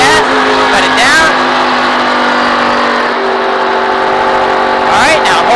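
Race car engine at Michigan International Speedway droning loud and close from inside the cockpit, pitch sweeping as the throttle eases off and then rising again, with a person talking over it.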